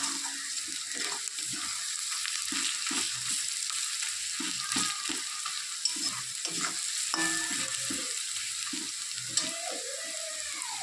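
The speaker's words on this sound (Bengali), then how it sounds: "এইদিকে আমার পেঁয়াজটাও ভাজা হয়ে গেছে" Onions fry in a pan for Bengali chicken kosha, giving a steady, close sizzle with scattered clinks and scrapes of stirring throughout.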